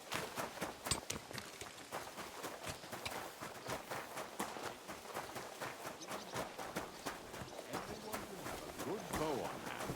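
Horse hooves clip-clopping at a steady trot in the medieval game Kingdom Come: Deliverance 2, close and continuous, heard under people talking.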